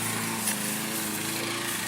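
A lawn mower engine drones steadily in the background, a continuous mid-level motor hum with no breaks and no talking.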